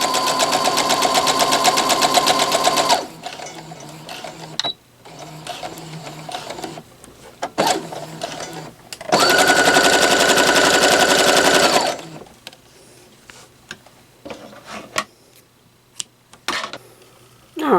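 A sewing machine stitches a quilt block in two loud bursts of rapid, buzzing stitching of about three seconds each, separated by quieter handling noises and clicks.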